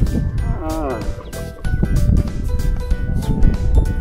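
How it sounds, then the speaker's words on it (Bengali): A cow moos repeatedly on a sandy sea beach at Lalganj in West Bengal, the drawn-out lowing calls loud and close, with surf and wind filling the background. "গরু চড়ছে বিচে।"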